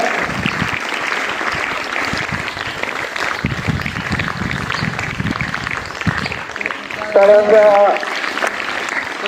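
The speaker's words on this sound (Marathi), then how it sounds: "जोरात टाळ्या" Loud sustained applause from a crowd at a school function honoring Lokmanya Bal Gangadhar Tilak's birth anniversary, dense clapping throughout with voices mixed in and a brief louder swell near the end.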